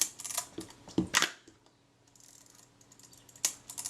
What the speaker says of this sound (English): that shutter cocking action there is good